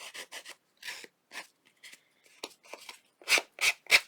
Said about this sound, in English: Sandpaper's a little bit too fine.